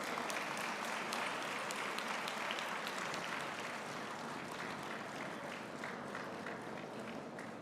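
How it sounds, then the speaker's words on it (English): A crowd applauds steadily at a university graduation ceremony, dense clapping from many hands that carries on throughout without pause. "Can we keep the applause going, please?"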